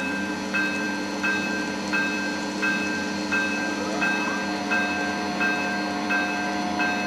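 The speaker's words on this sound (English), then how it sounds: "All the sounds are recorded by the engineers at Soundtracks from the Sacramento test track, where they test the real locomotives." Recorded sound of a Siemens ACS-64 electric locomotive, captured at a Sacramento test track, playing from a model sound card: a steady electric hum with tonal whines and regular soft clicks repeating about every second.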